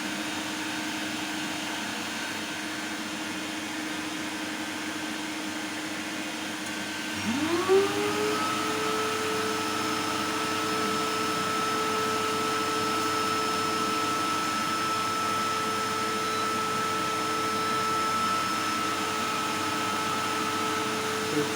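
Cooling fan inside an 8000 W low-frequency inverter box with transformer, spinning under heavy load: a steady whir that jumps up in pitch and volume about seven seconds in and then holds at full speed, close by with no talk.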